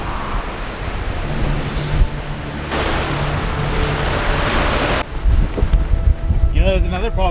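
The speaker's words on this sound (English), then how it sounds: "It's way too windy." Strong wind roars continuously near Mount Aspiring National Park, buffeting and rumbling close by, with a rushing sound like surf underneath.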